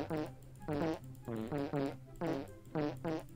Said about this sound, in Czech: Už jsme si prdli skoro 300krát